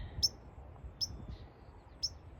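A white-crowned sparrow near the ocean beach gives three short, bright chirping notes spaced about a second apart, moderately near over faint low background rumble.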